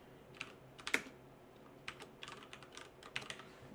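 Fingers tap on a computer keyboard in quick irregular bursts of light clicks, close and fairly quiet, with a louder keystroke near the start and no talking.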